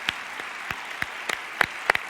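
Sparse, scattered claps from an audience at an event for Salahuddin Savari, a young Quran memorizer with autism, with about a dozen separate hand claps at irregular intervals over a soft background murmur.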